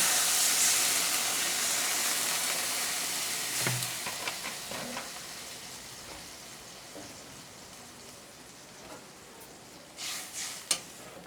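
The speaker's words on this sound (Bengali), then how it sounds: "এবার এতে পরিমাণ মতো একটু জল দিয়ে দেবো" Water splashes into a hot pan of tilapia curry with potato and helencha greens, setting off a loud, steamy sizzle that fades into a softer hiss, with a few light clinks and a brief hiss surge near the end.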